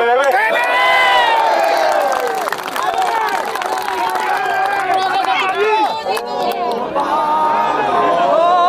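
Large crowd at an Indonesian political rally for the PBB party, shouting, whooping and cheering loudly and continuously, with voices chanting over dense crowd noise throughout.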